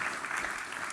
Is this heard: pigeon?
no